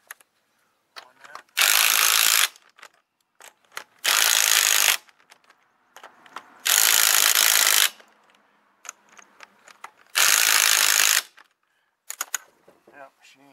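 A ratchet wrench spins off a wheel nut on a 2003 Ford Explorer, four loud, steady clicking bursts of about a second each separated by short pauses and small mechanical rattles.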